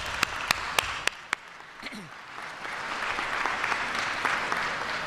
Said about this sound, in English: can we just give a round of applause for everyone that gave an answer?